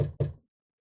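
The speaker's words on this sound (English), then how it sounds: "came some time afterward and knocked at the door" Two firm knocks on a wooden door, close and clear, spaced about a fifth of a second apart, then silence.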